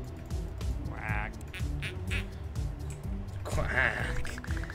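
Cartoon duck quacks in the Kindergarten video game, two bursts of quacking a few seconds apart, heard under ongoing talk over a game soundtrack.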